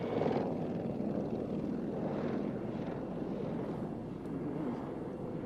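A Lynx helicopter flying in an air display, its rotor thrumming steadily at moderate distance with swelling and fading pulses as it maneuvers, some wind buffeting on the microphone.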